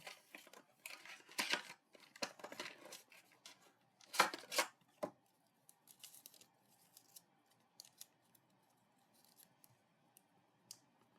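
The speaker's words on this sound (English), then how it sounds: "Trim the side just a little more." Scissors trim card paper for a handmade floral pillar card, giving several close, crisp snips in short bursts with pauses and light paper rustling between them.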